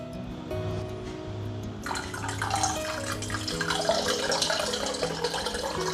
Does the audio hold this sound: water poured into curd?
yes